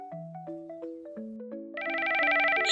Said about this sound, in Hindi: शाम को मिनी चिड़िया की भाभी का फोन मिनी को आता है